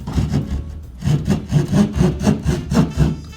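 A hand saw cutting drywall in a basement; close, steady rhythmic rasping strokes, about two per second, loud with no talk.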